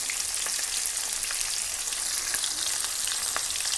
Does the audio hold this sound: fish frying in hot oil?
yes